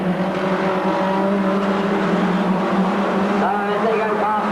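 1980s race cars on the Ringwood Raceway track drone past in a continuous engine roar, with a commentator talking over the noise.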